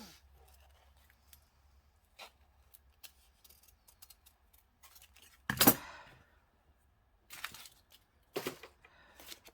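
The edge of a paper book page is trimmed: a few quiet, sparse cutting snips, with a louder, denser burst midway and two more short bursts near the end, in otherwise quiet surroundings.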